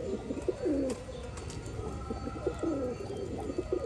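Pigeons coo in low, rolling repeated phrases, close by and steady, with faint chirps and a light background hum.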